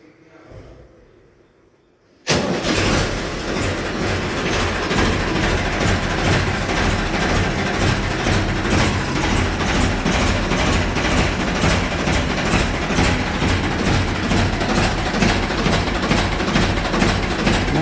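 A Ford 3600 tractor engine cranks and catches after a quiet moment, then settles into a loud, steady diesel chug that runs on close by without any talking.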